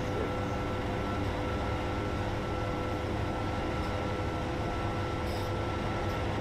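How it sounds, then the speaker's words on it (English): A train rolls along in the Train Simulator video game, an Amtrak or SEPTA engine giving a steady, dense rumble with even track noise throughout and no talk. "You see, the train is now moving."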